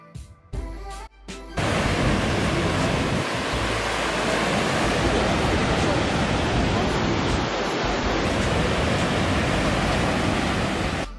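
The American Falls at Niagara Falls, heard close up from the US side as a steady, loud, broadband roar of crashing water that fills the scene after a brief scuffly start.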